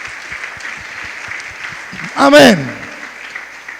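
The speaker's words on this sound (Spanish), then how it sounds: "Dale una ofrenda al Señor de palmas." A church congregation claps hands together as an offering during a lively Spanish-language service, a loud burst of applause rising under the preacher's voice and a shouted response.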